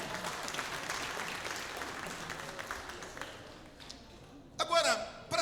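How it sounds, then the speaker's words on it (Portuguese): A church congregation applauds the valiant shepherds, with steady, moderately loud clapping that gradually fades and then gives way to a brief burst of voices near the end. "Vamos dar um aplauso aí para os pastores valentes da vida."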